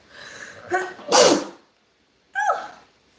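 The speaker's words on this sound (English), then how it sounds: "Sneezing." One sharp, loud sneeze follows a quick breathy intake, then a short pause and a brief softer exhalation afterward.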